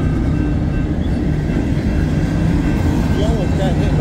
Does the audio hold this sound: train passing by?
yes